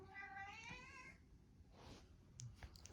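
A pet cat meows in a rising, harmonic cry near the start, then a few softer rustles and small sounds follow, close by in a quiet indoor room.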